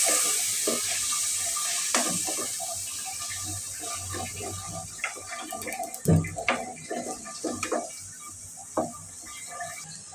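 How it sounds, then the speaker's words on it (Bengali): Spices are stir-fried with a splash of water in a pan, giving a soft, constant sizzle broken by irregular scraping and clinking of a spoon against the pan. "এই যে আমি মশলাটা ভালোভাবে কষিয়ে নিচ্ছি।"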